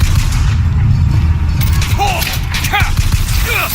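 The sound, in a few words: gunfire in Bioshock Infinite video game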